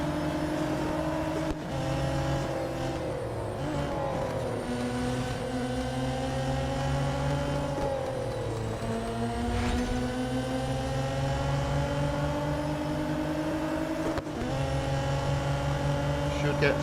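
Race cars roaring around the track in Real Racing 3, a loud continuous engine drone with shifting pitch as the car accelerates and brakes through corners, with a voice speaking over it.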